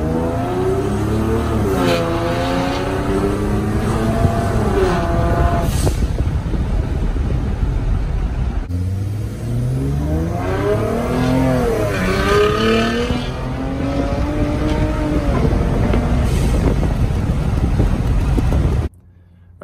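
A Ford F150 with the 2.7L engine and equal length downpipes exhaust revs loudly in repeated rising and falling sweeps, close and alone with some wind noise.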